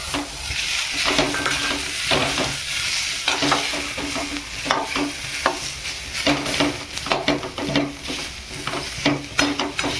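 Dry coconut and garlic fry in a pan for a spicy mutton curry masala, giving a loud, steady sizzle broken by frequent clattering scrapes of a spatula stirring against the pan.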